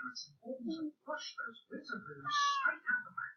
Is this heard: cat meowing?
yes